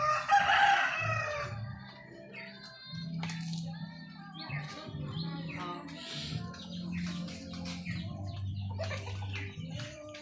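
Several fighting cocks kept for cockfighting crow loudly close by in a rural provincial yard, a strong crow at the start followed by more crowing, clucks and chirps layered over a steady low background hum.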